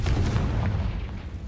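A Confringo fire spell explodes in Hogwarts Legacy, a deep booming blast with a rumbling low-end tail that fills the short moment on its own.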